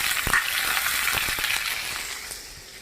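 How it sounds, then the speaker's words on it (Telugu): Tempering of mustard seeds, cumin, urad dal, chana dal and curry leaves frying in hot oil, a dense, loud crackling sizzle with sharp spitting pops early on that slowly eases over a few seconds. "ఇప్పుడు తిరగమాత గింజలు ఉన్నాయి కదా, మినపప్పు, శనగపప్పు, ఆవాలు, జీలకర్ర, కరివేపాకు ఇవన్నీ వేసేస్తున్నాము."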